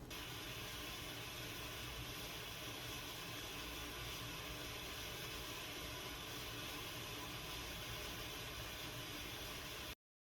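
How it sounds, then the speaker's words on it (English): A facial steamer hissing steam during a men's facial, a steady, even broadband hiss held close and unchanging for about ten seconds before cutting off abruptly. "allow them just to inhale the steam and relax into it"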